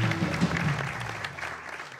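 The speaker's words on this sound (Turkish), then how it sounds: "Onlar için de küçük bir alkış." Brief applause from a late-night talk show studio audience, steady clapping lasting a couple of seconds and fading toward the end.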